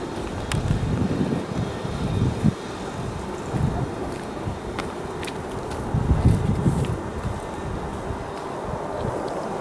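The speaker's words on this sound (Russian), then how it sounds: "Ветер сильный." Strong wind blowing outdoors around a yard where pigeons are flown, a rough buffeting roar with gusts swelling and easing, loud against the microphone.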